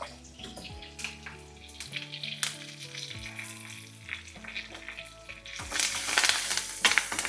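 Spices sizzle and crackle in hot oil for tempering, with curry leaves, turmeric and asafoetida added, with clinks of stirring; the frying flares up louder toward the end.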